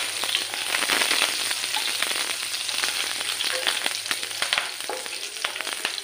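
Three or four garlic cloves and green chilli fry in oil over a lowered flame, a continuous close crackling sizzle with scattered sharp pops and stirring ticks, no talking.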